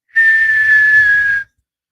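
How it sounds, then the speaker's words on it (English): A person whistles a single sustained, steady note straight into a microphone for over a second, loud and close, with a low rumble of breath underneath and no talking. "I probably shouldn't whistle into the mic"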